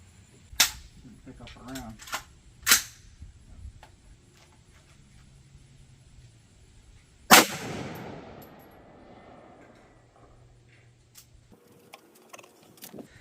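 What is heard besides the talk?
rifle shots hitting a steel gong at 200 yards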